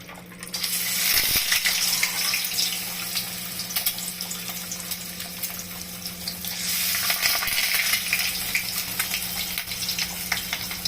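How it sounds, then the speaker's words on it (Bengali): Eggs fry in a hot wok for egg curry, a steady loud sizzle with bursts of crackling and the scrape of a spatula, close by with no talking. "এখন কড়াই গরম হয়ে গেছে, এখন আমাকে ভাজতে হবে।"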